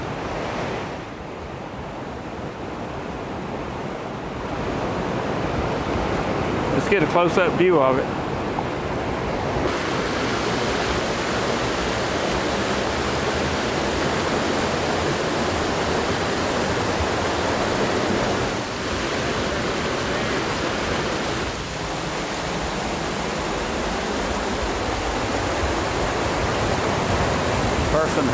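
Triple Falls waterfall in Western North Carolina roars as a constant broadband rush of falling water, loud and steady throughout, with a voice speaking briefly over it.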